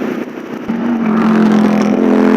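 A chopper motorcycle engine rises into a loud, steady rev, a close, sustained droning growl that builds after a brief lower idle.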